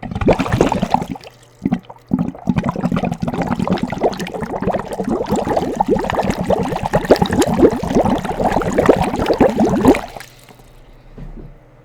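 Close, loud water splashing and sloshing right at the microphone for about ten seconds, dense and crackly, then stopping abruptly into quiet.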